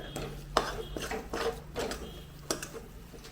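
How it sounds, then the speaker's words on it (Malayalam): Flattened rice (poha) being stirred together with jaggery in a pan, giving soft scraping and clinking strokes at an irregular, unhurried rhythm, close and fairly quiet. "എല്ലാം കൂടെ ചേർത്ത് ഒന്ന് മിക്സ് ചെയ്ത്"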